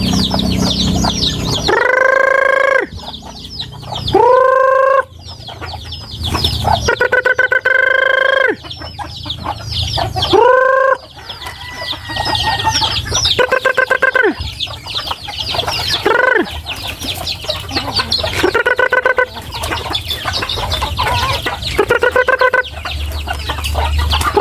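Gamefarm chickens and roosters at afternoon feeding time cluck continuously, with repeated loud roosters crowing close and all around, a busy, dense flock chorus with no talk.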